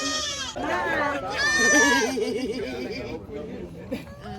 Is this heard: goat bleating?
yes